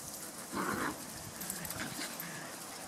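A dog pants softly in quick, breathy bursts close by, faint and steady against a hissing background, with one slightly louder stretch.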